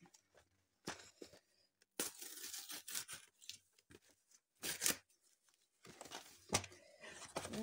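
Paper or plastic wrapping on a parcel of colouring supplies is torn and rustled open in several crackling bursts, close and moderately loud, with quiet gaps between.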